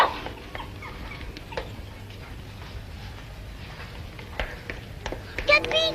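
A dog in a French drama film whimpers and yips faintly beneath a quiet soundtrack, with scattered short sharp sounds and a brief louder burst near the end.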